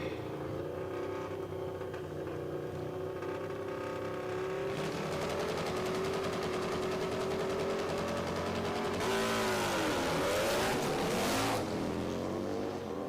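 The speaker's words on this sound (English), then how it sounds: "Good little drag race right here." Drag race cars launching and accelerating down the strip at the Robinson Industries Rumble at the Rock, a sustained loud engine roar rising in pitch with a sweeping gear change near the end, heard from trackside.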